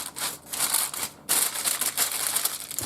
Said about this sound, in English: Now I'm going to put some foil on the top of mine.